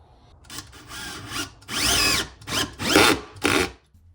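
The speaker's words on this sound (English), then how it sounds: "I'm just going to drive them into this 2x4." A Bosch drill driver driving 3/4 inch screws into a 2x4, several loud whirring bursts of motor and bit biting into wood, separated by short pauses, close up.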